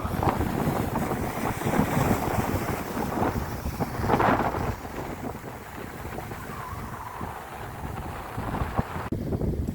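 Strong, cold wind buffets the microphone outdoors at Belhaven Bay, Scotland, a loud, gusty roar with swelling and easing rushes, water faintly splashing underneath.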